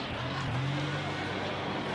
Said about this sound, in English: This thing is going to rip a car apart.